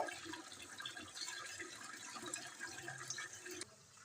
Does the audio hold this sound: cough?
no